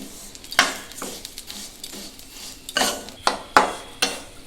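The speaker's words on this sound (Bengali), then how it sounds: "তিলগুলোকে ভালো করে আমি এভাবে ভেজে নেব। ঘিয়েতে তিলটা ভাজলে তার স্বাদ অনেক ভালো হয়।" Sesame seeds fry in ghee in a pan while a spatula scrapes and stirs them in sharp, irregular strokes over a faint background sizzle.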